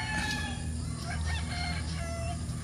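A chicken clucks and crows close by on a farm, short repeated calls over a steady background hum with no talking.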